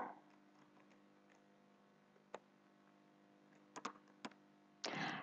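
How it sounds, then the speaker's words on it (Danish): Keys tapped on a computer keyboard while entering a company email address into a business software setup form, sparse scattered clicks in a quiet room, ending in a short louder burst of rapid keystrokes. "jeg kan taste en firma-e-mail-konto"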